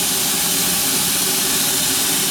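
A steady, loud broadband hiss of steam escaping from a steam locomotive's boiler feed, continuous and close, with no talking.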